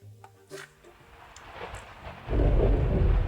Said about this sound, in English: Ooh, I like that effect. The rain.